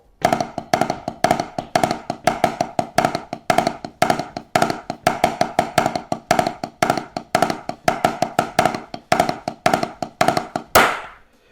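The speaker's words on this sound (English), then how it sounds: "All right, so I'm playing that in between the tom and the snare." A drummer plays fast repeated Herta fills between tom and snare, as 3/16 groupings over 4, in a tight, rolling rhythm. The groups of strokes repeat steadily and end with a cymbal crash.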